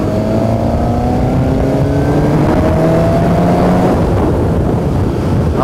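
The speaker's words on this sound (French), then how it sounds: "je vais essayer de vous faire écouter le bruit de la moto pour commencer. Alors là on est à 2000 tours minute en quatrième," Suzuki GSX-S750 motorcycle from 2018 with its stock exhaust, riding in fourth gear at about 2000 rpm: a steady, loud engine drone whose pitch rises gently as it pulls, with no talking.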